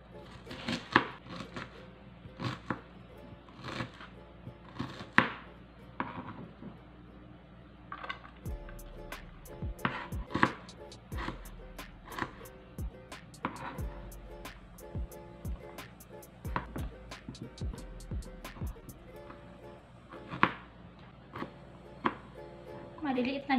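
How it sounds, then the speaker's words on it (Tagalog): A knife slices tomatoes, onions, ginger and garlic on a cutting board in crisp, irregular taps and thuds. The cuts come in quick runs with short pauses, and a voice is heard now and then. "So, maghihiwa muna tayo ng mga ating ingredients."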